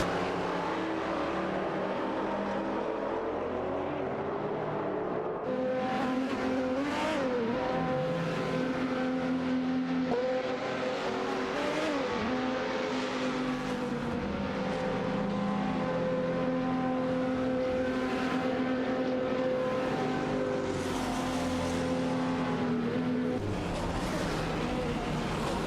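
Race cars in an AI racing video game accelerate along the track, engine drones rising and shifting continuously for the whole stretch, several cars layered together at moderate loudness with no talking.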